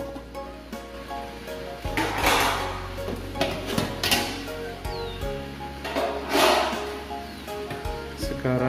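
A lid is set onto a cooking pot holding glutinous rice and boiling water, giving several metallic clanks and scrapes close by while someone speaks over the kitchen sounds.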